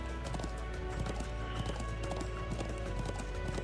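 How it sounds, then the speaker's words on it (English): Horse hooves galloping during riding in the video game Legend of Heroes: Trails of Cold Steel II, a steady rapid clip-clop rhythm that runs throughout over game music and ambience. "I'm glad I still remember how to ride a horse."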